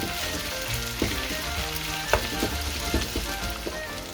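Onions seasoned with salt and pepper fry steadily in a pot for a spicy beef stew, a continuous close sizzle with occasional sharper crackles and pops spread throughout.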